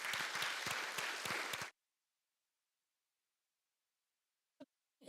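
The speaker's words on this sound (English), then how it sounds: "Let's give him a round of applause." Applause at a school board session honoring a state wrestling champion: a dense burst of clapping from a room of people that stops abruptly after under two seconds, followed by near silence and a couple of faint knocks.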